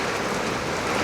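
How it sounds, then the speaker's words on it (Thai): Steady rain falls in a dense, loud, broadband hiss with no breaks, heard close and alone. "ฝนตกจ่อย"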